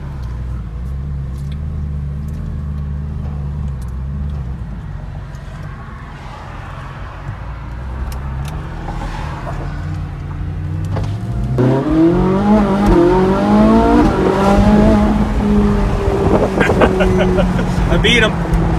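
A Lamborghini and a Ferrari sports car are driving, with a low engine rumble that swells into a loud rising revving roar in the second half, while people talk over it.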